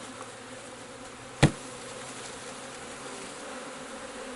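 Honeybees from a nuc box buzzing in a steady, fairly faint drone, broken by a single sharp bang as the box is knocked, with the hum carrying on afterward.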